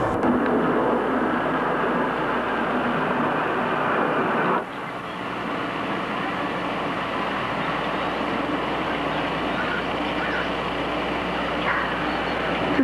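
Military aircraft circling overhead, caught in a home recording as a steady, distant droning rumble that holds for the whole stretch with one brief dip partway through.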